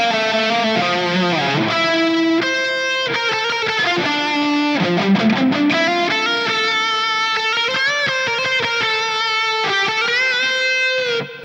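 A metal lead tone from an electric guitar played through an HX Stomp XL modeler, with distortion and reverb, runs alone and loud as a sustained melodic line of bends and held notes, fading at the very end.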